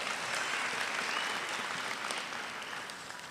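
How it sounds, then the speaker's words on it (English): Audience at an honors recognition ceremony applauds in a sustained, dense patter of many hands, loud at first and gradually easing off toward the end. "Give them a round of applause, please."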